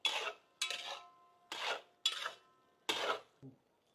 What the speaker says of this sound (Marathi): ग्रेव्हीमध्ये अंडे व्यवस्थित आपण मिक्स करून घेऊ।